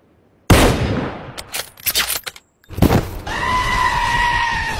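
Gunfire in a video game: loud, close bursts of shots and sharp impacts in quick succession, a brief silence, then another blast followed by a sustained ringing, high-pitched tone.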